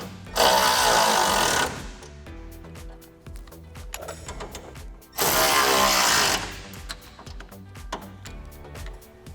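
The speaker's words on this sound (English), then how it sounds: "then you can move on to the 13mm hex head bolts. And for these, we're just using a 13mm socket." Ratchet with a 13mm socket tightening hex head bolts on a Jeep Gladiator JT flat fender flare, two loud bursts of fast clicking separated by quieter intermittent ratcheting and clanks, no talking.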